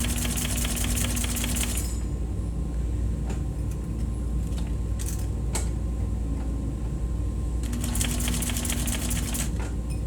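Sewing machine stitching the corner of a box cushion, with bursts of rapid needle clatter at the start and end and a quieter pause between with a few clicks.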